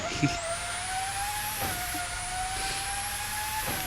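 A Pagani Huayra supercar cruises around a track in the game Car Dealership Tycoon, its engine holding a steady, even drone with a few brief shifts in pitch, heard faintly under a speaking voice.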